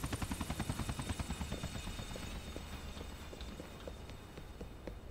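Helicopter in the video game GTA 4 thudding with a fast, steady rotor chop, strongest at the start and then settling into a continuous droning whir, fairly faint overall.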